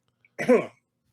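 A single short, abrupt sneeze close to the mic, one sharp burst lasting under half a second, with silence before and after.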